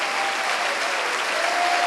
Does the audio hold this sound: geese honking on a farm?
no